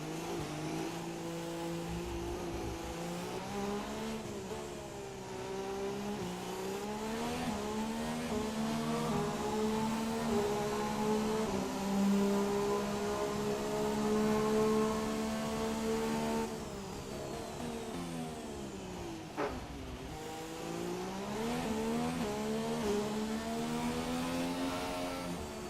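A Formula 1 car engine in the F1 2017 racing game at Monaco screams steadily at high revs, rising and falling through gear shifts with brief dips as it brakes and accelerates again, with no talking.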